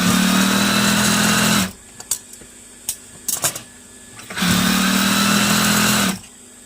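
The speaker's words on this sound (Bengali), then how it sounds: "দেখো বন্ধুরা কীভাবে সেলাই করছি, তোমরা দেখো।" An industrial sewing machine stitches hand gloves in a factory, running in two loud, steady whirring bursts close by, with a quiet pause of small clicks and handling noises between them.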